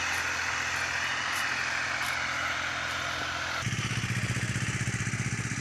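A tractor engine running steadily nearby, a continuous low droning rumble that shifts into a rougher, more pulsing chug partway through, heard alone without talk.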